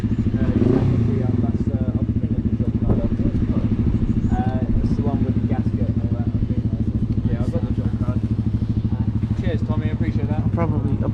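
Single-cylinder motorcycle engine running with a steady low thumping pulse, close and constant, while a person talks over it.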